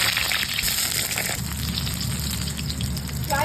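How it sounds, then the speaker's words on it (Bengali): Pointed gourd (potol) pieces fry in hot oil in a kadai, giving a continuous close, even sizzle with bubbling hiss throughout and no talk. "গরম হয়ে গেছে, আমি পটলগুলো ভেজে নেব।"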